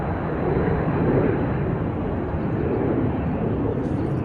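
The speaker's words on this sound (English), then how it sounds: "Oh, it's a little private jet." A steady, broad engine roar of a small jet passing overhead, holding fairly constant throughout with a low rumbling body.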